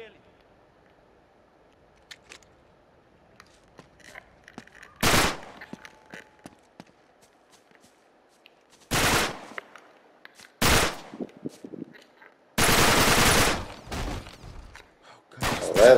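Gunfire in the video game Uncharted 3: Drake's Deception, loud bursts of automatic fire in several separate volleys between quiet gaps, one sustained stretch of shooting.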